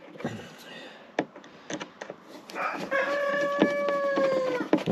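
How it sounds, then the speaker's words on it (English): A black chicken clucking and squawking in the background, with several sharp calls and a drawn-out crowing-like cry, alongside scattered clanks and knocks nearby. "That is the black chickie in the background, also now making a noise"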